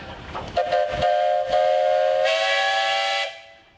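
A steam traction engine's whistle blows at a steam show, a few short toots followed by one long, loud, steady blast that cuts off sharply.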